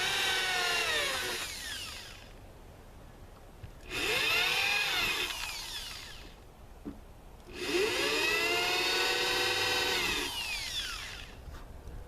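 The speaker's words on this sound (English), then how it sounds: "Got my handy dandy countersink tool." A countersink drill bit bores into wood in two long bursts, the powered drill whining loud and close with a rising-then-steady tone, separated by a few seconds of quieter pause.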